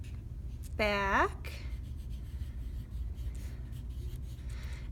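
Steady scratchy rubbing of a writing tool across paper as a name is written during a classroom heart-drawing art lesson, running continuously beneath a brief voiced word.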